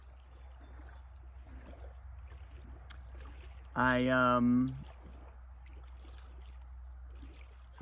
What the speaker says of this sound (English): You can probably hear the gently lapping waves, not too much wind.